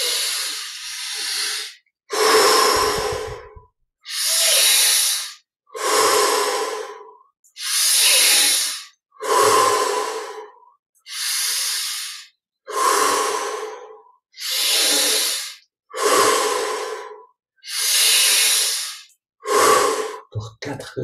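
Deep rhythmic breathing during a meditation exercise, about a dozen strong, close breaths in and out in a steady pace of roughly two seconds each, separated by short silences, with no talking.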